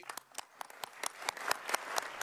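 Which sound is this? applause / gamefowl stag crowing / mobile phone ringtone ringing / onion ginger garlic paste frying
applause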